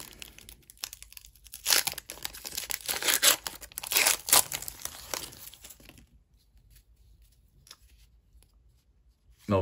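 Foil wrappers on football trading card packs being torn open and crinkled up close, several seconds of loud ripping and rustling, then a quieter stretch of soft card handling.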